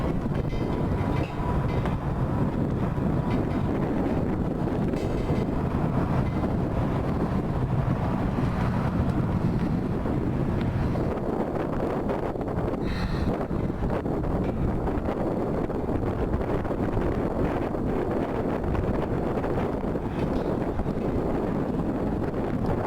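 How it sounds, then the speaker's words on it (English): Steady wind roars and buffets the microphone throughout, a constant low rumble with no pauses. "Still kind of windy today."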